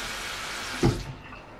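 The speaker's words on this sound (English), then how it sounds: "Don't use too much water, Cassie." Tap water running steadily into a bathroom sink, a continuous close hiss with a brief splash partway through.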